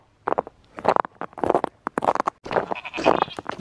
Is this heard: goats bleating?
yes